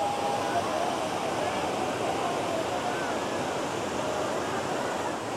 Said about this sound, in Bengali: এখানে জলের স্রোত দেখো কতটা জোরে